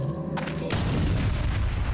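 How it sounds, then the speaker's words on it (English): A deep, booming explosion goes off in a Dark Souls first-person shooter mod, a sudden loud blast followed by a long rumbling, crackling tail that fills the rest of the moment. "Ah, boom! That's a funny looking explosion effect."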